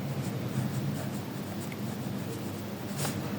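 Steady scratching of writing on a board or paper during a maths lesson on sets, continuous and close with no talk over it.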